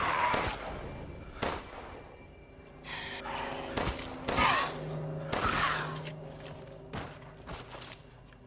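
Gunfire in the video game Resident Evil Village, a few sharp shots spaced apart over low in-game ambience and movement sounds, moderately loud with no talking.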